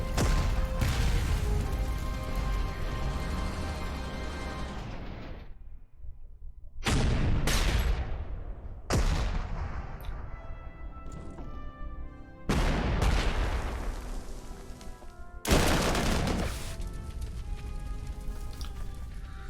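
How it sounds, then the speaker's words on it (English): A heavy 21cm artillery gun firing in the World War II strategy game Corps 2, with about five loud, booming blasts spaced a few seconds apart, each rolling into a long fading rumble. "That enemy 21cm gun is very bad news."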